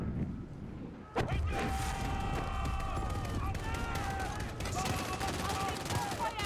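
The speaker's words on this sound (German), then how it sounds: "Die Kanone abfeuern!" A sudden loud video-game cannon blast opens a stretch of continuous rapid gunfire and explosions, with game music and tones running underneath.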